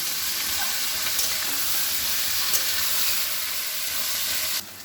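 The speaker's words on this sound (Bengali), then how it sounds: "পেঁয়াজগুলো ভালো করে লাল লাল করে ভেজে নেব।" Sliced onions fry in hot oil in a pan for Bengali prawn dopiaza, a steady, close, even sizzle with faint hiss and occasional soft stirring ticks, ending a little quieter.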